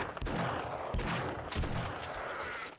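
Rapid automatic gunfire in the zombie survival game 7 Days to Die, a steady dense stream of shots with a few sharper cracks, loud and continuous throughout.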